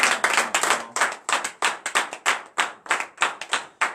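A church congregation at a morning prayer service in Benin claps together in a strong, regular rhythm, loud and close, each beat sharp and evenly spaced, with no distinct cheering voices.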